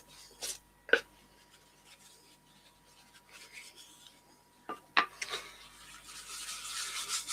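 Yorkshire grit abrasive paste is rubbed onto a yew crotch bowl turning slowly on a lathe, giving quiet scratchy brushing strokes with a few small knocks, growing into a steadier rubbing toward the end.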